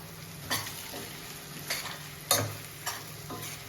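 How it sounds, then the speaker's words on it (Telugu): Hand-pounded chili powder frying in oil with eggs, a steady close sizzle broken by about five sharp scraping stir strokes at uneven intervals, with no voices. "మంచి స్మెల్ వస్తూ ఉండేది ఆయిల్ కారం ఫ్రై అవుతూ ఉంటే"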